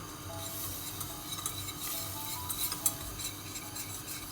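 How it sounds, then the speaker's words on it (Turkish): Butter and flour being stirred and toasted in a pot for lentil soup, a soft continuous scraping of the spoon with faint sizzle and small clinks, quiet and without voices. "Ve şimdi bunları ben kavuracağım arkadaşlar önce. Tereyağı, un."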